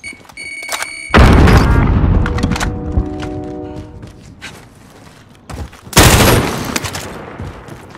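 In Warzone 2 combat, a frag grenade blast booms loud and close, followed by a second heavy explosion, with bursts of gunfire and rattling weapon sounds around them.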